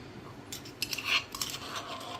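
Corn flour vada batter with spices and ajwain being mixed in a steel bowl, heard as a short flurry of close metallic clinks and scrapes of a utensil against the bowl, with no voices.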